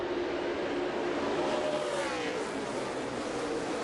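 Several NASCAR race cars roar hard on a restart in a drag race into turn 1 at the 2017 Brantley Gilbert Big Machine race, a loud, dense, continuous wall of engine noise with a rising, swelling pitch.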